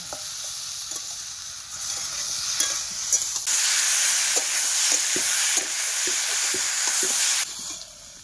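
Onions fried with salt and turmeric in hot oil: a steady sizzle swells into a loud, bright hiss midway, with repeated scraping and tapping of the stirring spoon, close up, then the sizzle drops back near the end.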